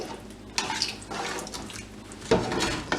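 Beef broth pours into a pot of chili with splashing, gurgling bursts, a louder gush near the end, close and alone.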